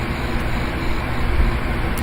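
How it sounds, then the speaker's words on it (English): Union Pacific 3985 steam locomotive rolling downgrade on Tehachapi Pass in the Open Rails simulator, a steady, loud rumble with a constant high whine, no pauses or talk. "Let's do a crossing run by as the train goes down grade."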